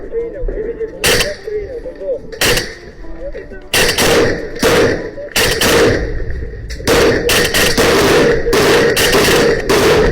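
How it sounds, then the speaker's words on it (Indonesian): Sharp bursts of gunfire crack out in quick clusters, loud and close, with shouting voices in between, during combat between Ukrainian and Russian soldiers. "tentara Ukraina langsung meluncurkan rentetan tembakan"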